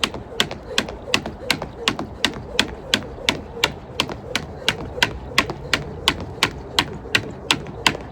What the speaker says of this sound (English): there is a squeak in the handle